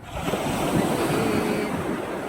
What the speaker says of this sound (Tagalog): Ayan, may alon na naman.